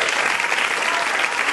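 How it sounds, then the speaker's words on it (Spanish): A crowd claps in dense, even applause, a loud continuous patter of many hands throughout. "Give him a round of applause."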